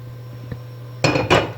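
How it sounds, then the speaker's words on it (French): A gas burner on a kitchen stove is lit: a faint tick, then a sudden close, loud breathy whoosh with a rattling texture that flares twice before ending. "Je vais commencer par allumer mon gaz"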